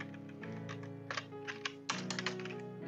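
Typing a terminal command on a computer keyboard, a close run of quick clicky keystrokes in uneven bursts over a steady electronic hum, with no talking.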